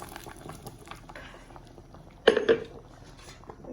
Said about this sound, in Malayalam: നല്ലോണം ഒന്ന് തിളച്ചിട്ടോ